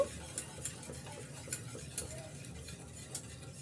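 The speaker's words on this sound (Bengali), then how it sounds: "এখন অনবরত নেড়ে ছেড়ে আমি এটা ঘন করে নেব" Cream being stirred in a pot over a stove burner to thicken it, giving quiet, steady scraping and soft clinks of a utensil at an even rhythm, faint and close, with no talking.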